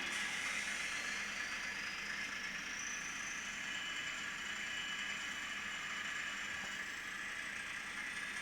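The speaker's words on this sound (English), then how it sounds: "So I've now powered it down, and I will use the brake, which is F2." An N gauge model train runs with a thin high motor whine that slowly rises and falls in pitch as it brakes after powering down, quiet and steady over a low background hum.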